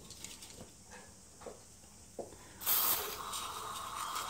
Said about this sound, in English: I'll just give that a quick spray out with some brake cleaner